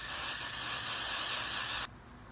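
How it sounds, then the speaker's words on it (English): A spray bottle releases a steady burst of hissing spray onto a wig for about two seconds, close and fairly loud, then cuts off abruptly into quiet. "Now let's spray it first."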